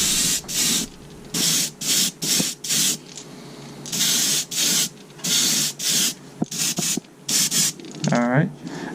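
Soft plastic fishing baits are spray painted in a run of short, even airbrush bursts of hissing spray with brief gaps between them, close and moderately loud, and a faint clunk near the end.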